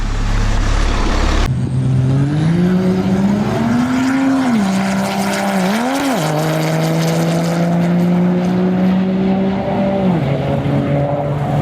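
A loud 6.7 Cummins diesel truck engine revs and roars steadily up close, its pitch rising and dipping a few times as it pulls hard.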